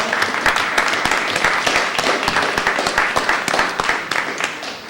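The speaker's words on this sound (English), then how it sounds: "I would love for you to welcome him with a round of applause" A round of applause from a civic meeting crowd in Brooklyn welcoming a guest, a dense bed of clapping hands with distinct sharp claps throughout, loud and sustained without talk on top.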